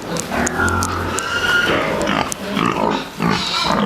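Pigs grunt and oink continuously in a piggery housing pigs sorted by size, their overlapping calls loud and close with no talking.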